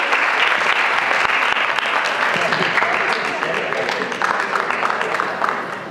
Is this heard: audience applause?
yes